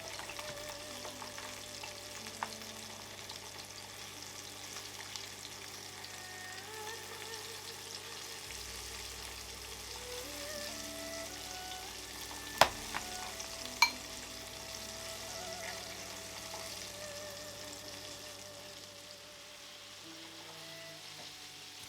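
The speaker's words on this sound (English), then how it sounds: "Like I said, batch frying, so do a few, set them to one side and do the rest." A batch of crispy Peking chicken pieces fries in hot oil in a home kitchen, giving a soft, continuous sizzle with a few brief clinks partway through.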